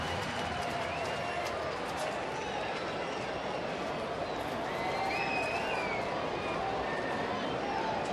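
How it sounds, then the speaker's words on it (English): A baseball stadium crowd at a Reds home game against San Diego stirs during the seventh inning, a broad steady wash of distant cheering and scattered applause with murmuring voices underneath, continuous throughout. "Crowd waking up as Ryan Hannigan steps in."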